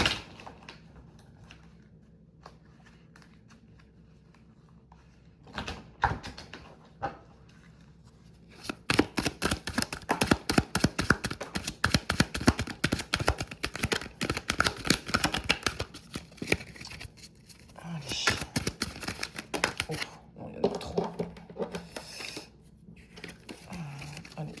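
Oracle cards are shuffled for a reading, starting with a few scattered flicks, then a long run of rapid, crisp riffling and slapping close by, with brief pauses.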